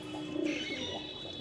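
Pigeons cooing softly in a loft on a cold evening, a low steady murmur of coos with faint chirps, fairly close and continuous with no talking.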